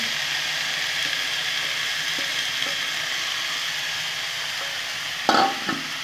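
Lafa greens stir-fried with onion, garlic and chili over a high gas flame, a loud continuous sizzle with a few soft stirring knocks and one sharper scrape late on.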